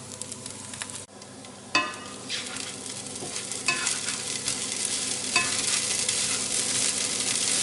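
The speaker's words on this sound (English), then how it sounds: "I'm giving it a stir and I think it is about done now" Fried rice sizzles steadily in a pan while a utensil stirs and scrapes through it in repeated strokes. The frying is close and gets slightly louder as it goes on.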